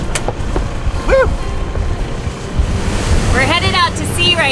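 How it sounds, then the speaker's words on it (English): Waves and swell wash steadily against a sailboat heading out to sea, with gusty wind buffeting the microphone throughout and a voice speaking over the water. "tumultuous with the waves and the swell coming in at us"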